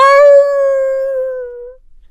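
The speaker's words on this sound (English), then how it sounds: "howled the wolf" A long, steady wolf howl from a fairy tale audiobook rises slightly, then fades out over about two seconds, clean and close against silence.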